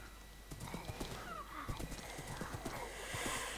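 Minecraft horse sounds: a rapid string of hoof clip-clops with a whinny, fairly soft and continuous over faint background ambience.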